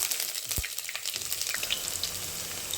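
Cinnamon, cardamom and bay leaf dropped into hot oil give a close, continuous crackling sizzle, with a brief thud at the start.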